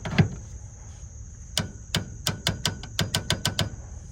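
Torque wrench clicking while tightening bolts on a Fujitsu condenser, with a quick run of sharp, close metallic clicks over a faint steady tone.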